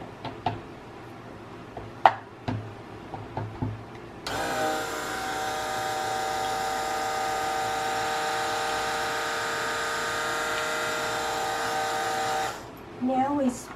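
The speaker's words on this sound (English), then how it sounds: "Now we blend it up to bring it to emulsion." An immersion blender whirs loudly and steadily for about eight seconds, bringing soap batter made with lye water to emulsion, then cuts off. Brief clicks and handling sounds come before it.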